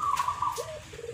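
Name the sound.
perkutut (zebra dove) cooing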